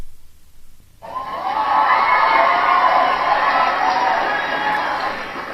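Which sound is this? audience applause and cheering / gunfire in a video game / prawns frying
audience applause and cheering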